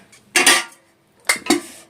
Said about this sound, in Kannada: ಸ್ವಲ್ಪನೇ ಪಾತ್ರೆ ಐತೆ ತೊಳಿಬೇಕು